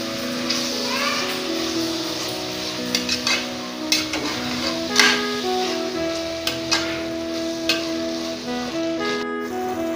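Chopped banana flower is stirred in a sizzling frying pan for a vegetable biryani, with a steady fry hiss under scattered clinks and scrapes of the spoon against the pan, while a voice talks and children are heard in the background.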